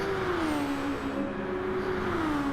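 A race car engine in a racing video game crossing the finish line to take the checkered flag, a steady high engine drone holding pitch with a slight dip, continuous and fairly loud with no voices.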